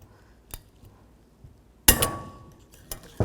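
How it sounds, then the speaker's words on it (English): Metal anti-rattle brake pad clips pried off the rear brakes of a 2009-15 Toyota Prius with a small screwdriver, giving a few sharp close metallic clinks and a ringing snap amid quiet. "And now we can take off these anti-rattle clips or brake pad clips."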